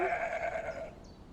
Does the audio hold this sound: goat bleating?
yes